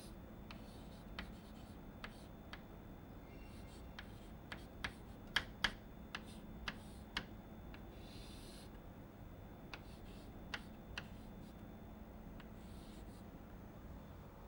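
Pen strokes as an equation for kappa A is written out by hand during a physics lecture on quantum tunneling: soft, scratchy writing over a low steady hum, with a run of sharp ticks and taps as the pen strikes the surface.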